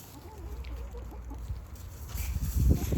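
Soft, low clucking from chickens close by, steady murmuring sounds that grow a little louder toward the end, with no talking.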